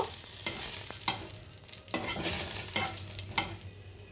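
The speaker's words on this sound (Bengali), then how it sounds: "তো শুকনো লঙ্কাগুলোকে এবার আমি ভালো করে ভেজে নেব" Two dried red chillies frying in hot mustard oil, a bright sizzle broken by repeated scraping stirs of a spatula in the pan, close and alone without talk.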